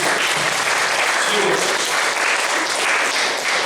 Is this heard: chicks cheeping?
no